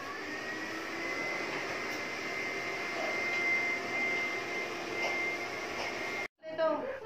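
A Hyla machine vacuums and deep-cleans a sofa, giving a steady, loud motor whine with a hollow airflow roar that runs continuously for about six seconds before cutting out abruptly, then a brief burst of handling noise.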